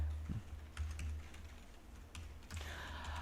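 Code is typed on a computer keyboard in scattered bursts of soft, close key clicks with short pauses between them, over a low hum.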